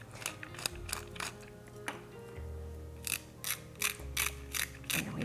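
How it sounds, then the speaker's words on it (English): Salt and pepper ground into a vinaigrette in a jar: a mill's ratcheting, clicking grind in short repeated bursts, close and fairly quiet, with pauses between turns. "Next up, I'm going to add some salt and pepper, the basis of pretty much every vinaigrette."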